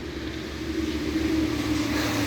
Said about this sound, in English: You'll hear Land Cruisers going past,